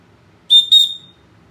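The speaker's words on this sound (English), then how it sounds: "So that's a good loud whistle." Two sharp, piercing blasts from a Leatherman Signal multitool's emergency whistle in quick succession, loud and high-pitched, the second trailing off briefly against near silence.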